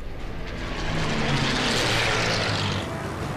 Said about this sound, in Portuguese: O motor Merlin berra.